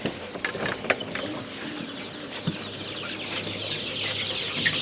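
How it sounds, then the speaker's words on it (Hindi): Sonali chickens on a rooftop poultry farm with around 200 to 250 birds, faint scattered clucks and chirps over a constant hum and rustling of the flock. "हाँ जी सर, ये सोनाली की मुर्गी है"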